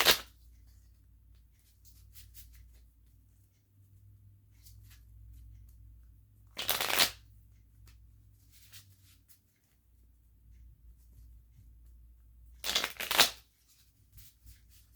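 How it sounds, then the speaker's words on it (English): A personal deck of cards is shuffled in two short, crisp riffling bursts a few seconds apart, close and alone against a quiet low hum. "I'm going to shuffle these. These are a personal deck of mine."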